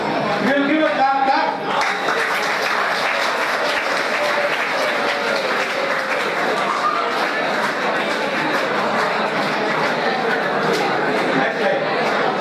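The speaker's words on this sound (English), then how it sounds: "We will give a clap." An audience at an entrepreneurship orientation session applauds in a dense, loud, sustained wash that lasts the whole stretch, with some chatter mixed in.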